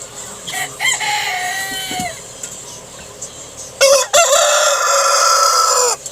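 Farm chickens cluck while a rooster crows loudly and close by, one crow early and another louder burst later, all over a steady backdrop of clucking fowl.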